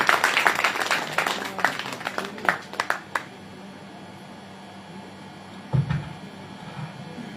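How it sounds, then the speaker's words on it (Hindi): Applause from an audience welcoming Dr. Sunil Kahar to a talk on regional peace, a burst of clapping up front that thins to scattered claps and fades within a few seconds, with a brief low thump near the end. "जोरदार तालियों से स्वागत करिए डॉक्टर सुनील"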